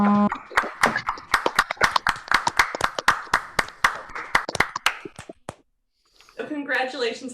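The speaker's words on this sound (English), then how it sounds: "We got to unmute and applaud for that, everybody." Several participants on a video call clap after unmuting for a school awards ceremony, a run of sharp, uneven hand claps lasting about five seconds, dying out into silence before a voice resumes talking.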